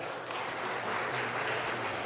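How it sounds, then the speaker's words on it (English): Steady applause from a crowd at a charity party fills the whole moment, a dense even patter of clapping without pauses. "Give me a round of applause for all the media."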